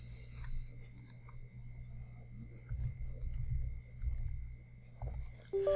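Faint, sparse clicks of a computer keyboard being typed on in a quiet room over a low steady hum, with a few brief taps spread across the moment.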